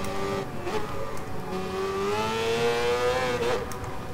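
Mazda 787B race car engine in the video game Gran Turismo Sport, a high-pitched, shrill rotary wail rising smoothly as the car accelerates, loud and alone with no talk.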